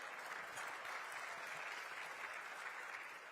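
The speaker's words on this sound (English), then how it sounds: "Give yourselves a round of applause." Applause from a breakfast audience at the Michigan Chronicle's Pancakes & Politics event in Detroit, a steady dense wash of many hands clapping throughout, moderately distant and without speech.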